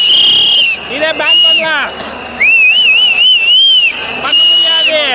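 Crowd whistling at a TVK political rally in Vellore: loud, shrill, wavering whistles rise and fall in bursts throughout, with a voice speaking over them.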